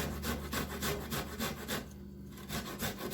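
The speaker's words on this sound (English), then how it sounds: "Okay, my little grater. Just grate about a tablespoon." Fresh ginger is rubbed on a small hand grater for about a tablespoon of finely grated ginger, with close, quick rhythmic rasping strokes, a short pause, then a few more scrapes.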